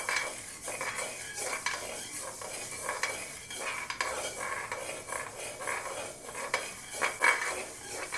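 Masala spices such as coriander seeds and cumin being dry-roasted in a pan, heard as a steady, busy scraping and rattling of a spoon against the pan, close and continuous, with no voices.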